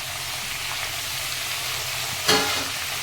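Masala paste of tomato, cumin, chilli and ginger-garlic paste fries over low heat, a steady close sizzle with a short louder burst of spitting near the end, no talk.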